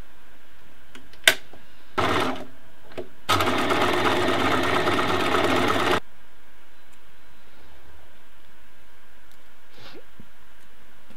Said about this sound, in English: now we're going to sew that end